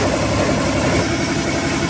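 Engine of a bagan fishing boat in Sinjai idling, a loud, steady low rumble with constant vibration throughout, heard close up in the engine area with no voices.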